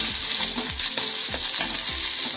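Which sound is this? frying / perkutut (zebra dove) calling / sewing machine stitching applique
frying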